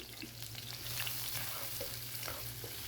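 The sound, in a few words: finely chopped onion frying in oil in a kadai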